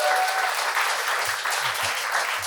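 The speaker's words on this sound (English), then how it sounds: "huge round of applause, please" A live audience in Brisbane applauds continuously, a dense and even wash of clapping that holds steady from start to finish with no voices over it.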